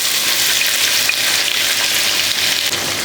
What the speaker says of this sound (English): fry this on a medium to high flame until it gets a golden tinge